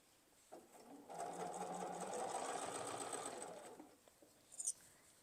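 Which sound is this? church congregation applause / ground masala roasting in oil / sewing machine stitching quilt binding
sewing machine stitching quilt binding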